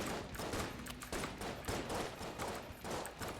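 Rapid, steady bursts of video-game gunfire from Enter the Gungeon crackle continuously, a dense rattle of shots with brief pauses, fairly quiet in the mix.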